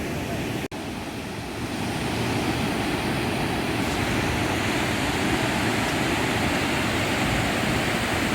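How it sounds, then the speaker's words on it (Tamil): Water pours over the Palar dam in a steady, broad rushing roar that stays constant and fairly loud, broken only by a brief dropout near the start. "பாலாறு டேமுடைய அழகிய காட்சி. தண்ணி விழுந்துட்டுருக்கிறதா நீங்கள் பார்த்துட்ருக்கீங்க."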